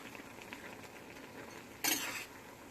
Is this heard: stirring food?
yes